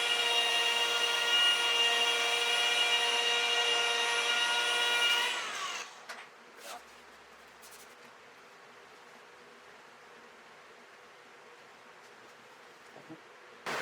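A paint polishing machine buffing the paint of a Cirrus SR22 Turbo aircraft whines at a high, steady pitch up close for several seconds, then shuts off, leaving quiet background hiss with a few faint knocks.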